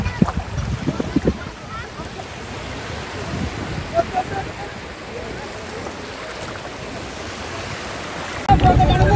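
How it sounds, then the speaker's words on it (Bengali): Sea waves wash continuously onto the sandy shore at Banshbaria beach in Sitakunda, Chattogram, a steady broad rushing surf with a few louder surges, partly under a person talking. "এগুলো এই কারণে ঢেউটা এমন দেখাচ্ছে"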